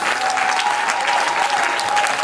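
A church congregation applauding to acclaim Jesus at a worship service, loud steady clapping from a large crowd filling the whole span, with a sustained tone and voices faintly beneath.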